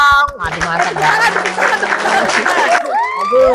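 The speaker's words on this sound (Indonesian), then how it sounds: "Boleh, tepuk tangan dulu dong." An audience at a cosplay fan party claps at the host's request, a short close burst of applause mixed with chuckles and chatter, and a voice speaking at the start and end.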